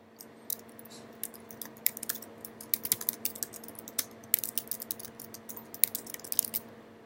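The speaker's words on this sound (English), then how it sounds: "I can go in here and start typing out my text." Rapid, irregular clicking of computer keys being typed at close range, bursts of keystrokes continuing steadily with no voices.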